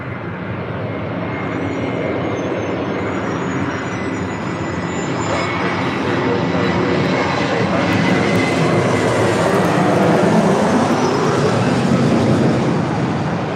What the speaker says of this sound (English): Delta Airlines flight 913 coming in from Detroit, A321, next arrival on 24 left.